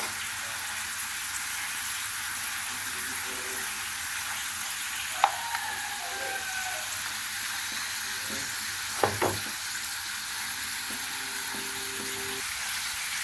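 Medium-cut potato pieces that have been turned over sizzle in hot oil in a pan. The frying hiss is steady and close, broken by a couple of sharp clinks partway through.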